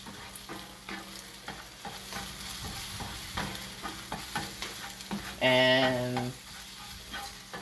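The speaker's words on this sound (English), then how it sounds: "this won't take any time to cook because the pan is super hot" Food sizzling and being stirred in a very hot pan for fried rice, with sesame in the mix; close, crackling frying with scraping stir strokes and a brief louder burst of sizzle near the end, one short spoken word.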